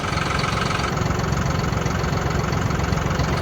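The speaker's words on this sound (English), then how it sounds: "Borrowed my Uncle Keith's tractor" A borrowed farm tractor with a loader bucket idles steadily nearby, a constant loud rumbling engine note with light knocking and no talk.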